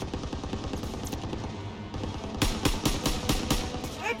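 Rapid machine gun bursts from a WWII battlefield in Call of Duty: WWII, a run of loud sharp shots in the second half over steady combat din and background voices.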